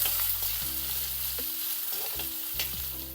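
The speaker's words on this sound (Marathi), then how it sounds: "मी आता यामध्ये घालूया चिरलेला कांदा घालूया परत बी गाजर परतून घेऊ" Chopped onion, green beans and carrot sizzle and fry in a hot pan on a gas stove as they are stirred, a steady close hiss with a few scraping strokes, with no voices.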